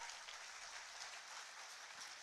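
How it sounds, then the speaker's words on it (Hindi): Faint, steady audience applause fills a government ceremony in Jharkhand at the launch of an education module, a dense wash of many hands clapping at once without a break and with no voice on top. "तालियां आपकी ओर से जोरदार हो।"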